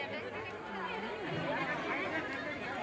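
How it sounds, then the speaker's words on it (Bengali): A crowd chatters at a Durga Puja pandal opening on a rainy day, a steady wash of many overlapping voices with no single speaker standing out. "কত মানুষের ভিড় দেখো"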